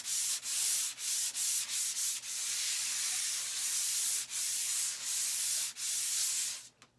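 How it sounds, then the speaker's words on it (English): Wood being hand-sanded with 150 grit sandpaper, a steady close scratchy rasp in long continuous strokes broken by brief pauses, heard alone and trailing off at the end. "I'm just going to go over it real quickly. And this is 150 grit sandpaper."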